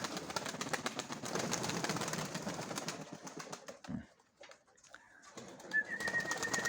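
Pigeons coo softly amid a dense, noisy outdoor background, which drops away midway before a brief high tone and more ambient noise.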